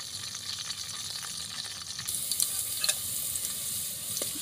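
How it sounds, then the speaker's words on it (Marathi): Green chillies sizzle steadily in hot oil in a pan for veg biryani, with occasional stirring scrapes and small pops rising partway through. "आता मिरची पण टाकून घेतली आहे"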